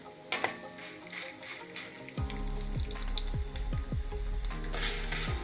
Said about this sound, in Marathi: अशाप्रमाणे सगळं तळून घ्यायचं.